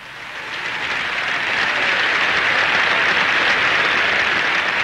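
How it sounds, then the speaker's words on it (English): Thunderous applause from a crowd at the Open golf championship for Arnold Palmer swells over the first second into a dense, steady roar of clapping. "he won in 61 and 62 to thunderous applause"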